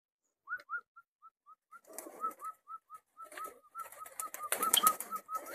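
Pet pigeons are let out of their loft and burst into flight in several loud, close flurries of flapping wings. Beneath them a steady series of short, regular whistled chirps carries on throughout.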